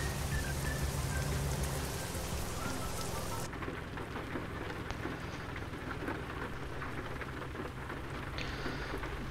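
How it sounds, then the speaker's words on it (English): Heavy rain pours down steadily, loud at first and then easing to a softer, continuous patter, with no voices. "It's raining now."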